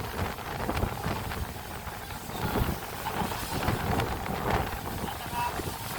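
Strong wind buffets the microphone in a continuous roar, gusting louder at moments, with faint voices underneath, during a street flushing operation in Divisoria, Manila.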